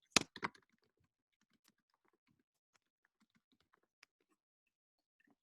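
Keystrokes on a computer keyboard as a sentence is typed: a quick burst of a few clicks at the start, followed by sparse, faint, isolated taps.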